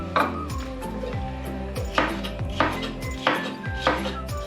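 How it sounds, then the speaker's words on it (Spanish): A knife slices food into strips on a board for a Basque marmitako stew, giving a series of sharp, evenly spaced knocks at close range, about one per second, with no talk over them. "Lo vamos a cortar en tiras"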